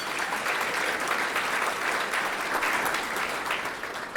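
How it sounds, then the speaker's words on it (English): Audience applause at an annual business appreciation breakfast, a steady, even wash of clapping from a roomful of people lasting throughout, with no speech over it. "So let's give them a big round of applause,"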